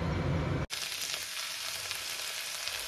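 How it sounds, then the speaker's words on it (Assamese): Sliced okra fries in a pan for a simple bhindi bhaji, a steady close sizzle that starts abruptly after a brief louder opening sound and carries on evenly with no talk. "এয়া ভেন্দি ভাজি বনাইছো খুব সিম্পল ভেন্দি ভাজি"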